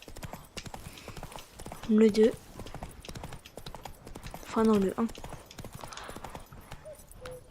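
Horse hooves clip-clop steadily as a horse is ridden in The Witcher 3, a continuous rhythmic trot with two brief louder bursts, while someone talks over it.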